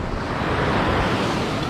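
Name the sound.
sea waves at the beach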